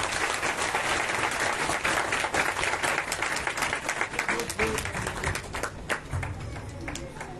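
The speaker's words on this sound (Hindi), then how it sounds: "बहुत जोर ताली बजाइए प्लीज।" Audience applause at a Shrimad Bhagwat Katha gathering, a loud sustained burst of many people clapping that tapers slightly toward the end, with a voice faintly underneath.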